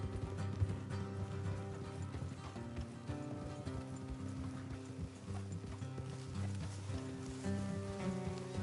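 Horses' hooves clip-clopping on a trail in the video game Red Dead Redemption 2, a soft, steady walking rhythm under a layer of background music.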